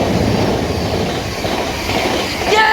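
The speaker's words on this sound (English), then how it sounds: "Yes, my train." A Brighton to Cambridge service passes through a station with a loud, steady rumble of wheels on track, and a brief squeal near the end.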